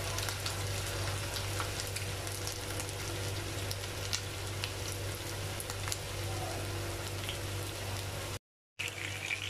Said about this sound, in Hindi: और अब कबाब हम इसके अंदर फ्राई करेंगे। फ्लेम जो है मीडियम टू लो है